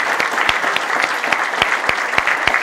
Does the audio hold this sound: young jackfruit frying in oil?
no